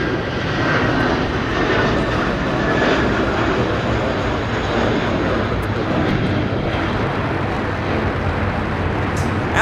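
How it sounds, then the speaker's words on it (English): An American Airlines A321 jet departs LAX bound for JFK, its engines producing a loud, sustained broadband roar that holds steady for several seconds at close range. "it's a perfect transition to the departing American A321 headed to New York's JFK"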